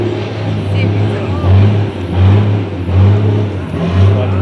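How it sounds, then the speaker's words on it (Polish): A truck drifting at a trade show in Kielce, its loud engine droning and surging in steady pulses while the tyres are warmed up, with a commentator talking over it. "To oczywiście efektowne rozgrzewanie opon."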